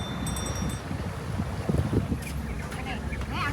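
Wind blows steadily through a coconut grove in Sekinchan, a constant gusty rush with low buffeting rumble against the microphone, close and moderately loud.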